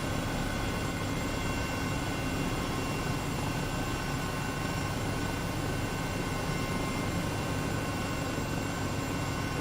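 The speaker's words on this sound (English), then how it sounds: "This thing is just a great helicopter." An H135 helicopter in Microsoft Flight Simulator drones steadily in a dense, unbroken rotor and turbine hum, quiet and even for the whole stretch, with no speech.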